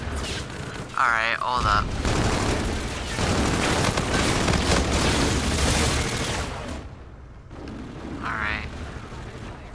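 Dense, loud gunfire and explosions from the video game Call of Duty: Infinite Warfare roll on almost continuously for several seconds, with a voice talking briefly over the start and again near the end.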